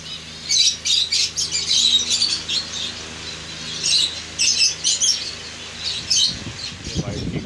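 Finch breeding pairs kept cage by cage in a colony setup chirp and tweet in quick, bright bursts, a busy overlapping chorus close by with a brief rustle near the end.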